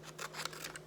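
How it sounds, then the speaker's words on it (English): Scissors cutting a paper index card, a brief run of quiet snips close by over a steady low hum. "Some scissors, we'll cut this"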